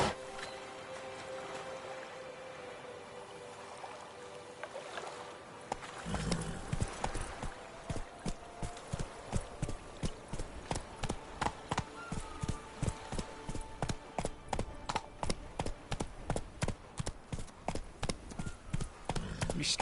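Roach, the horse in The Witcher 3 on PS4 Pro, breaks into a gallop, its rapid rhythmic hoofbeats starting after a quieter stretch and drumming steadily and close, with no talk over them.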